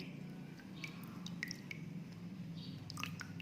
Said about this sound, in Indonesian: Film dicuci di air mengalir perlahan-lahan selama 1 menit.